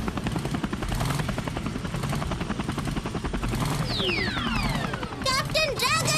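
A cartoon helicopter's rotors thump in a rapid steady beat throughout, with high swooping whistles and chirps breaking in near the end.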